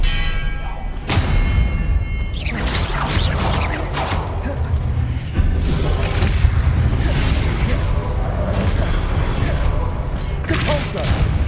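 Spellcasting in the video game Hogwarts Legacy brings a rapid volley of magical booms, thuds and crackling impacts over a dense battle soundscape. The bursts come in quick succession at close range and loud, and a voice calls out a spell among them.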